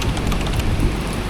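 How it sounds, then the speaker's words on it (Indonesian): Dense, steady rush of rain falling in Kota Kinabalu, Sabah, Malaysia, a loud wash of hiss with no voices. "hari ini Kota Kinabalu diguyur hujan ya"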